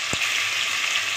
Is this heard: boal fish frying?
yes